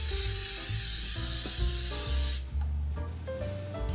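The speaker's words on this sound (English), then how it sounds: "I'm going to give my mini muffin tin a spray" Cooking spray hisses onto a mini muffin tin in a home kitchen, one long close burst over quiet background music, then it stops and only the music continues.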